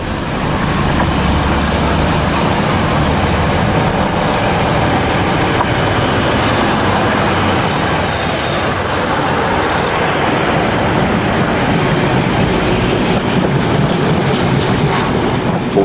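A British Class 47 diesel locomotive, 47473, hauls a train past at Huyton, Liverpool, its engine roaring loudly and continuously alongside rumbling wheels and rail noise.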